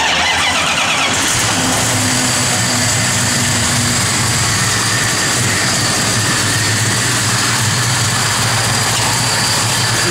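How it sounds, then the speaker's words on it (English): A 1974 Plymouth Barracuda engine cranks briefly on its push-button starter, then catches and settles into a steady, loud idle that runs on for several seconds, with no talking. "turn the key on, push the clutch in, and then the push button will work on the start"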